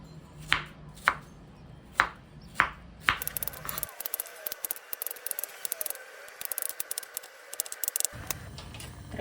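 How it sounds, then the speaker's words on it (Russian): A knife chops fruit into large cubes on a board: several sharp, evenly spaced strikes, then a quicker run of lighter cuts close by, with no talk. "Далее нарежем все брусочками, кубиками,"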